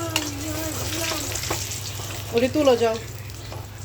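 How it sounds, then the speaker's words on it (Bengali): Eggplant slices fry in a pan of oil with a steady sizzle, as someone speaks briefly over the cooking in a home kitchen. "তো এই যে বেগুন ভাজি হয়ে গেছে"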